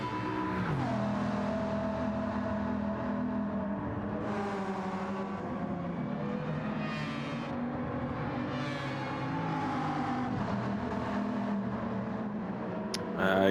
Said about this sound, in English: And then we just hear the monstrous W16 of Haldir's engine.